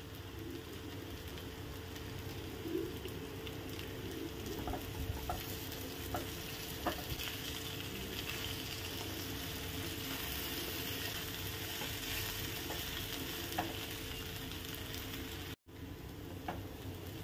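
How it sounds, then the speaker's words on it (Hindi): Soaked poha with coriander and onions is stirred in a frying pan, a constant loud sizzle over continuous background noise with occasional light scrapes of the spatula against the pan. "थोडीशी कोथिंबीर ॲड करूया आणि परतवून घेऊया"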